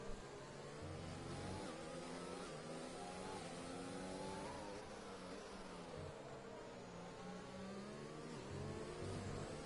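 In a sim racing game, a racing car engine accelerates with a loud, continuous whine that rises and falls as gears shift, running steadily for about ten seconds with no voices.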